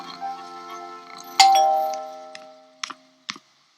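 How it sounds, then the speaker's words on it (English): A doorbell rings once with a bright chime that decays over about a second, followed by a few faint clicks and taps in an otherwise quiet room with soft background tones. "Until the doorbell rang."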